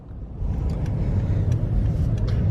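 A car rolls up to a Porsche and Audi dealership, a low steady engine rumble and road noise rising after a quiet first half-second and holding at a moderate level.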